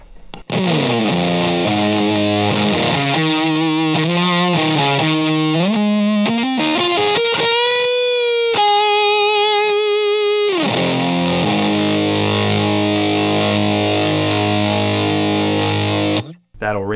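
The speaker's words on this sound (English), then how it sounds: "when you push them both up, that's where you get the fuzz mode." Heavily distorted electric guitar through a JHS Kilt pedal in fuzz mode, thick fuzz, playing a sliding riff then holding sustained, buzzing notes, loud and alone.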